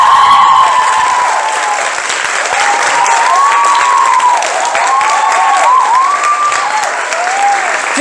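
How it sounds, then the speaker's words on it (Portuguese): Applause and cheering from an audience after a children's karate performance at a school arts show, sustained and fairly loud throughout, with excited shouts and calls rising over the clapping. "Uma salva de palmas para eles."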